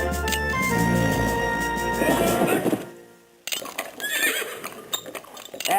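Artillery horses in a Civil War strategy game neigh and whinny loudly, then a sharp cut leads into thuds and clattering hooves.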